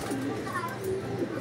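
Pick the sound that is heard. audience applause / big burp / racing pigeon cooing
racing pigeon cooing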